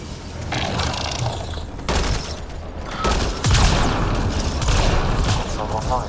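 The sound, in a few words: gunfire in the video game Mass Effect Andromeda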